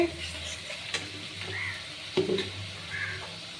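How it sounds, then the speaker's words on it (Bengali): Spices and chili powder frying in oil in a pan while being stirred: a steady soft sizzle with a few scraping strokes of the spoon, close and moderately quiet, no talking. "আমি কিন্তু এখানে একটু সামান্য লঙ্কার গুঁড়ো দিয়ে দিচ্ছি। আমি এটা এখন একটু নেড়ে দিচ্ছি।"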